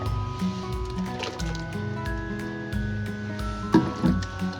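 Blended spice paste is added to a kimchi mixture of rice-flour porridge and sugar, making wet squishing and sloppy plopping sounds. A steady background hum runs throughout, and a slightly louder splat comes near the end.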